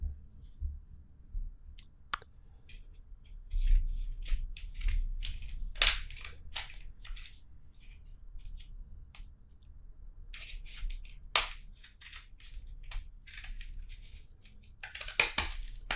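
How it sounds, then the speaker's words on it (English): Sharp snips and crinkly crunches of scissors cutting through plastic packaging, irregular and close, with occasional handling rustles between cuts. "I've got my scissors ready, so we can now start opening everything."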